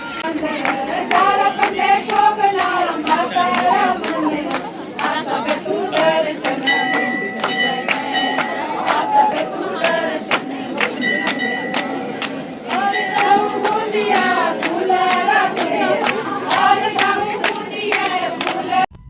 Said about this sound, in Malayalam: ഹഡിംബ ദേവി ടെമ്പിളിൻ്റെ അവിടെയുള്ള ആ ഒരു ആൾക്കൂട്ടമാണ് നമ്മൾ ഈ കാണുന്നത്